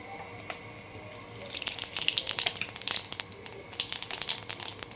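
Cumin seeds tempering in hot oil in a wok, a crackling sizzle that starts after a second and a half and continues as dense, bright popping and spitting, fairly close, with no talk.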